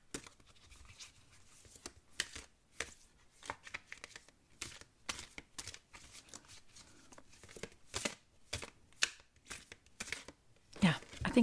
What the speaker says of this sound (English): I'm just going to give it a bit of a shuffle